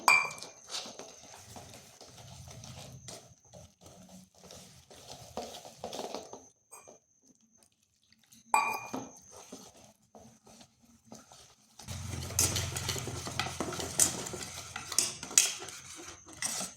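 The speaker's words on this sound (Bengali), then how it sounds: "এরপর অল্প অল্প জল দিয়ে একটা বেটার তৈরি করব" Flour batter made with rice flour, stirred in a bowl as water is added a little at a time, producing soft clinks and scrapes of utensil against bowl, with quiet pauses and a louder stretch of wet stirring and clatter near the end.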